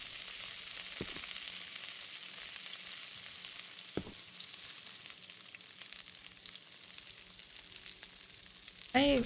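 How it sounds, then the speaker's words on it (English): A steak sizzles as it cooks, likely in a video game: a steady, soft frying hiss with a few faint clicks, ending in a brief louder tonal sound. No speech is heard. "Cook steak?"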